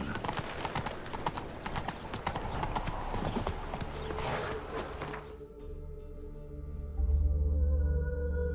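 Horse hooves clip-clop at a steady galloping rhythm in The Witcher 3, loud and close for about five seconds before the scene shifts to a low sustained drone and then a louder rumble.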